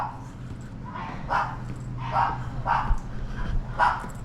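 A dog on a street in Osaka, Japan gives several sharp, moderately close barks at a steady spacing over a low background hum.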